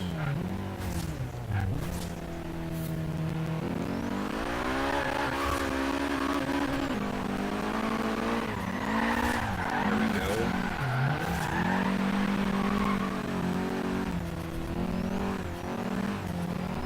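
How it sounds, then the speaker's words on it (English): Nissan S13 drifting around a traffic circle in Forza Horizon 3, a steady engine roar with long, wavering tire squeals throughout; a voice briefly speaks over it. "Do some skids around this traffic circle for a little bit."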